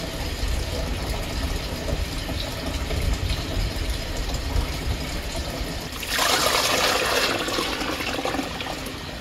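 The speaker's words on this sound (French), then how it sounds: "j'enlève un seau, je rajoute un seau d'eau froide." Water from a bucket of cold water is poured into a canning sterilizer holding jars of home-preserved tuna, a continuous rushing splash that swells louder and brighter near the end, heard alone without talk.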